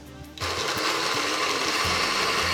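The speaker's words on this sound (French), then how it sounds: "Et on va commencer à mixer, on va voir la consistance" A blender purées fish with butter for a back-to-school fish purée, starting after a brief quiet moment and then running as a steady, close, loud whir to the end.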